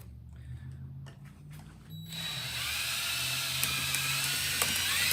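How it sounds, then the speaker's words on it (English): After a few faint clicks, a power drill starts up and whines steadily, drilling out rivets in sheet metal, with sharp grinding bursts as it bites in. "And let's drill these rivets out."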